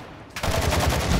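Rapid automatic gunfire in Call of Duty: Modern Warfare II DMZ, starting after a brief quiet moment and then a steady, loud burst of close shots.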